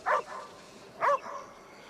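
A small dog barks indoors, two short yappy barks about a second apart, close and fairly loud, with a faint whine trailing after each.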